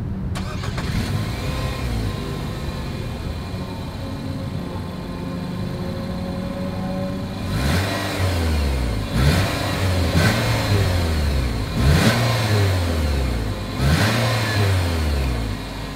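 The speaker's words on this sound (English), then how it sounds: "As always, here is that exhaust clip." A 2020 Nissan Rogue Sport engine starts and settles into a steady idle, then its single exhaust outlet gives five or six sharp revs in the second half, close and loud with no talking.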